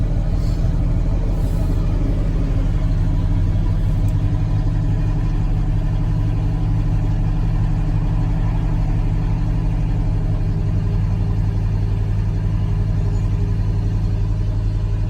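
An International Travelall engine running after a cold start, a steady low rumbling idle close by with even tone throughout and no speech.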